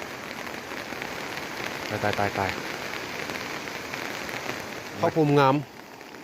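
Heavy rain pours steadily in Xiangkhouang, Laos, a constant dense hiss of drops on surfaces heard close, while a voice speaks briefly twice over it.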